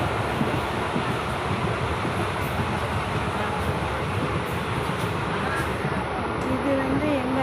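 Train rolling through Chinnasalem railway station, a steady broadband rumble of wheels and carriage noise with wind, continuous and close throughout, with some talk faintly mixed in.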